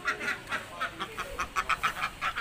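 Ducks at a backyard water spot keep up a run of repeated, rhythmic quacks, moderately close and fairly soft, with no one speaking.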